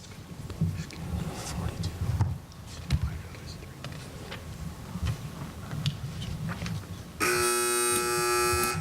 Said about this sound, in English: Teams wait for the buzzer.